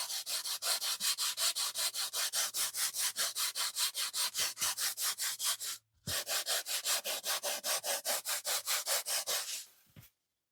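A wooden hat block is hand sanded with sandpaper of 100 and 320 grit, making fast, even rasping strokes close by. The strokes break off briefly midway, resume, then stop near the end.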